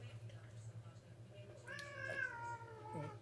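A pet cat gives a drawn-out meow, fairly close, following a low steady hum and faint background noise.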